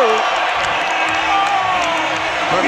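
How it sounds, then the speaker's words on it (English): Basketball crowd at a Knicks game in 2015 roaring and cheering loudly and continuously after a play by Langston Galloway, with whoops rising over the dense arena noise. "The crowd reacts to Langston Galloway"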